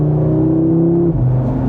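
A deep, loud engine rumble from a 2026 Audi RS3 exhaust idles steadily close by, its tone dipping briefly partway through, with no talking.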